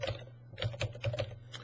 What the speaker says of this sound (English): When we're typing in the group name,